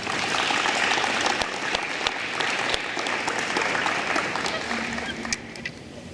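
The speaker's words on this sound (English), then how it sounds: "give your parents a round of applause for me" Students and guests at a high school National Honor Society induction give the parents a round of applause: sustained, dense clapping from a large crowd that tapers slightly near the end, with faint voices beneath.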